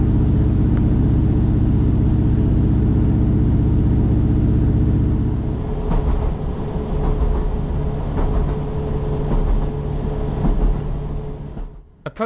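A TfW diesel railcar rolls along the Heart of Wales Line, its loud engine drone and wheel rumble steady at first, then giving way to rhythmic track clatter and clicks before trailing off.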